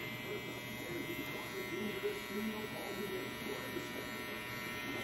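A two-speed electric hair trimmer hums steadily at moderate volume while a person talks over it.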